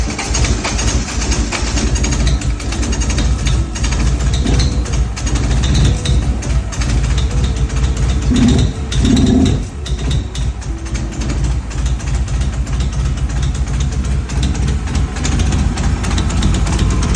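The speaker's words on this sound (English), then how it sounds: "As you can see, it's not idling right" A Honda Civic EK engine idles roughly close by with a loud, continuous low rumble and a slightly uneven, rough texture throughout, with no talking.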